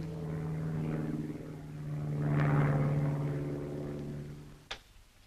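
Propeller search plane droning overhead in a 1950s monster movie, a steady low engine hum that swells as it passes nearer and then fades, ending with a sharp click.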